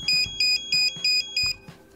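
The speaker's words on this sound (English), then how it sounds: "To test the red alarm, simply press and hold the back button on the station." An Owlet Smart Sock base station sounds its red alarm test: five loud, close, evenly spaced electronic beeping pulses, then a fading tail, with no voices.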